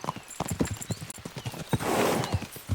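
Horses' hooves clip-clop in a steady trot in Kingdom Come Deliverance 2, loud and close, with a rush of wind or motion swelling midway and a brief whinny-like tone.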